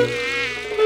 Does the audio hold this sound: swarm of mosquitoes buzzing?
yes